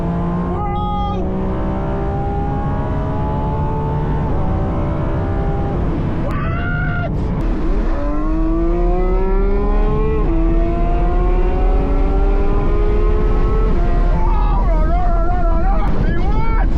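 A Lamborghini Revuelto 1015 hp hypercar pulls hard at full throttle toward top speed, its engine note climbing in loud rising sweeps through repeated gear changes, with excited voices shouting close over it.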